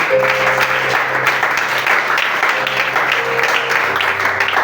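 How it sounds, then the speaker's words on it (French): A youth church seminar audience applauds and cheers for the Lord, with a dense, loud, sustained wash of clapping while sustained musical tones hum underneath. "Est-ce que tu peux donner une grande acclamation encore au Seigneur ce soir?"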